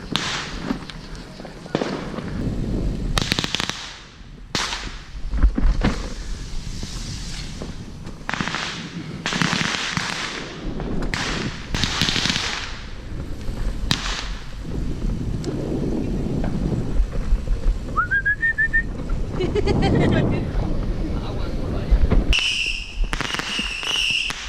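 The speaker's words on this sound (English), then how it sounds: "Those are my favorite Saturn missiles." Saturn missile fireworks go off on the Fourth of July as a string of crackling pops, whistling launches and bangs at moderate distance, with wind noise and voices in the background.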